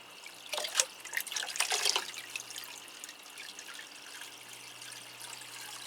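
Water drips and trickles as potted orchids are watered, a short burst of splashing drips early on that fades to a faint, quiet trickle.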